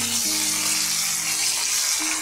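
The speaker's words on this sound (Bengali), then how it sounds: "ভালো করে ভেজে নিই।" Aair fish frying in a pan of hot oil, a steady close sizzle running throughout with no talk.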